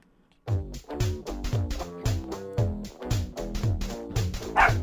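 A dog barks repeatedly at close range, loud, rapid yips and bow-wows in a steady series with no voices over them.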